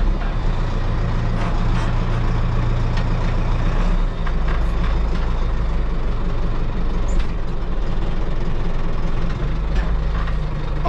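A tractor reverses in low gear with a loud, steady diesel drone, rough and continuous at close range, with small knocks and rattles over the engine.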